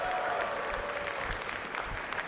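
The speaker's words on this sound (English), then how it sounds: "Can we get a round of applause for that one?" Audience applause at the Unity 2024 opening ceremony, a steady wash of many hands clapping throughout, fairly distant and even in level with no talking over it.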